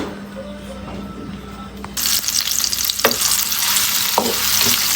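Vegetable khichuri ingredients with egg are stirred and fried in a pan over low-medium heat, giving a steady sizzle that grows louder midway, with a few sharp scrapes of the spoon against the pan.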